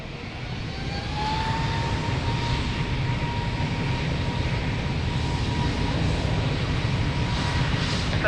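At Lisbon Airport, an airplane takes off from runway 02 with a steady, rising engine roar, heard from a distance and holding strong throughout, with a thin whine running through it.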